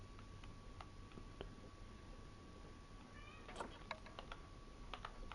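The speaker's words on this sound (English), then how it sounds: "I can hear one of the cats crying." A cat cries with a brief, faint meow partway through, set against quiet ticking and light keyboard taps.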